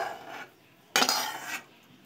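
A cooked egg and coriander dish slides from a pan onto a plate with a sudden scraping clatter of metal on crockery. The clatter is short and close, preceded by faint softer rubbing.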